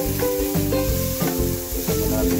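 Onions sautéing in a pan for pork kilawin, a continuous loud sizzle with repeated stirring scrapes, close by and with no talk.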